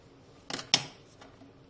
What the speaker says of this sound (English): take a pair of blunt edged scissors and just core on the leaf